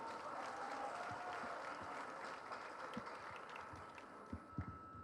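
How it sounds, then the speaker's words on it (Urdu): Audience applause at a literary conference session in an arts council auditorium in Karachi, a faint, steady wash of many hands clapping that holds throughout, with a few louder claps near the end. "ان کے لیے زوردار تالیاں بجا دی جائیں"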